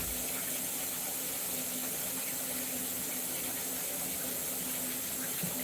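Cold water running steadily from a tap, a constant rushing hiss with no pauses.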